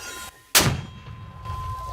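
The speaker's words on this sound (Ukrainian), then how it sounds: "Постріл!" A mortar fired by a Ukrainian rifle battalion crew, a single sharp, loud blast that rolls into a short rumbling decay, preceded by a faint hum and a moment of near silence.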